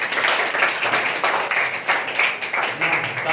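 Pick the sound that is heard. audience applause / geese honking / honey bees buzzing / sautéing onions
audience applause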